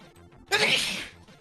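A single sharp sneeze bursts out nearby, a brief forceful hiss of air that fades within half a second.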